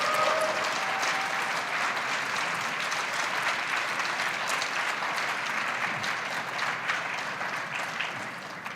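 Audience applause at a satellite industry awards luncheon, a loud, sustained wash of clapping from a large crowd, steady throughout and tapering slightly at the end.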